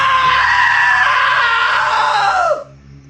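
A loud, sustained shrill scream from the video game What Remains of Edith Finch, a single piercing cry held for about two and a half seconds before dropping and cutting off abruptly, heard alone over a low background hum.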